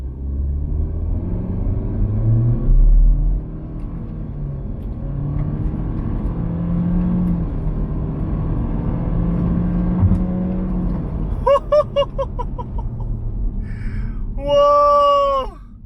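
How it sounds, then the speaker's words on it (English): A 2022 Honda Civic RS with a CVT accelerates hard toward 100 km/h using the paddle shifter, a steady engine rumble and road drone building continuously, with brief whooping cheers and an excited shout near the end. "Now we are gonna start again for the 100 kilometers per hour test. This time I will use the paddle shifter."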